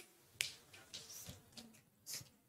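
A sharp finger snap rings out near the start, followed by a few softer clicks and another crisp snap toward the end, with no talking.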